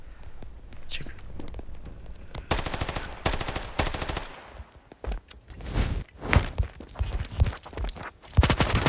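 Bursts of automatic gunfire in the Standoff 2 mobile shooter game, rapid rattling volleys interspersed with single shots, fairly close, with quiet whispered talk underneath.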